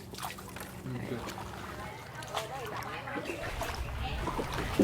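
People chatting aboard a small boat, with water lapping and splashing against the hull and a low engine-like rumble beneath the voices.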